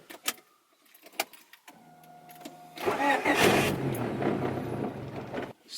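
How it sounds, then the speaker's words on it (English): Turbocharged Honda Civic with a built H23 engine cranking with a whining starter after a few clicks, then catching and settling into a loud, rough idle nearby, with no talking over it. "Still turned on. Took a little bit, but you guys hear it."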